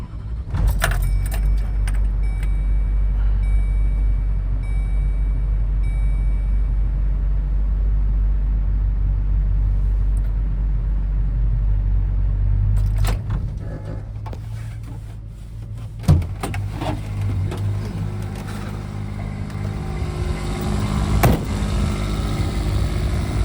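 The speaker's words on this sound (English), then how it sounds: "I'm just going to start it here real quick from inside" Diesel engine of an FBI command truck runs with a loud, steady low rumble for about thirteen seconds, then cuts and gives way to clunks, a door and rattling handling noises with jingling keys nearby.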